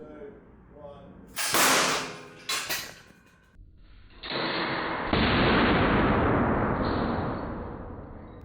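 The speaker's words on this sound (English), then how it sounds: "And that was a lot louder and blew the whole thing up." A homemade pneumatic piston soccer shoe fires with a sharp loud crack, followed by a second burst and then a long rushing hiss of escaping air as the device blows apart.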